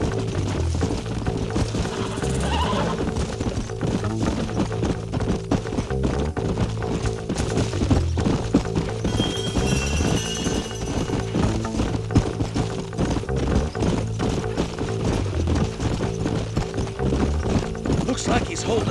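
Horses in the Red Dead Redemption video game trot with rhythmic clip-clop hoofbeats throughout, a brief whinny breaking in, while a character talks over a steady game soundscape.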